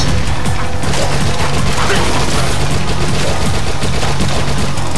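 Rapid automatic SMG fire in the zombie shooter game Dead Nation, a dense continuous crackle of shots mixed with crashes and booms from the game action, loud throughout with no pauses.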